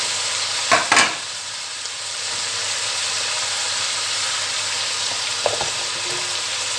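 Garlic, onions and potatoes hiss and crackle steadily in a pot of lamb stew, a loud continuous fry with two brief clattering bursts as pieces drop in near the start and another near the end.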